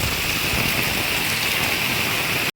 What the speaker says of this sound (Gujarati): જો વરસાદ એકદમ ફૂલ વરસાદ ચાલુ